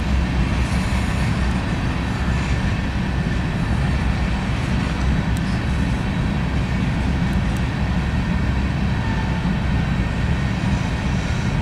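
A Norfolk Southern freight train, train 17N hauled by NS power running east near Alliance, rolls past in a steady, loud, continuous rumble of wheels and cars with no pause.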